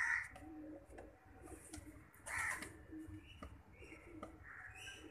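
Firozpuri pigeons coo softly in a loft. Low soft calls repeat through the background, mixed with other faint bird calls and rustling.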